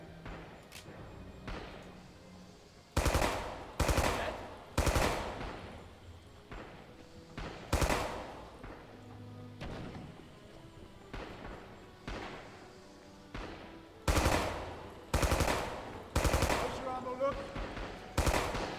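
Bursts of gunfire from the Western shooter game Heroes of the West, loud cracking shots in clusters and rapid volleys with pauses between, under faint background voices.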